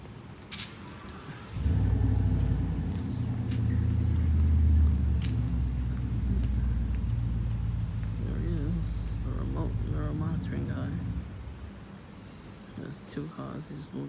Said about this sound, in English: He just moved that 1 car over.